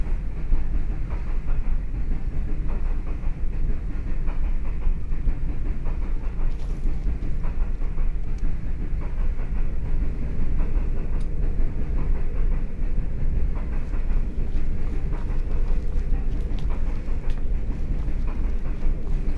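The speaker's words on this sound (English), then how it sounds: "There's a train going past." A train going past outside, a loud, steady low rumble with faint rhythmic clatter throughout.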